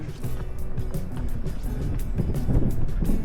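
Loud, rough, cold wind on the Three Capes hike in Tasmania battering the microphone in continuous gusts, close and steady for a few seconds.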